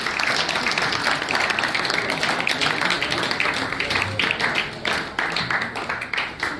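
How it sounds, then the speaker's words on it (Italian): Audience applause at an award ceremony for a special-needs youth cooking contest in Senigallia, Italy: dense, steady clapping from a sizeable crowd, loud and sustained throughout with a few sharper claps standing out. "Andiamo avanti, un grande applauso"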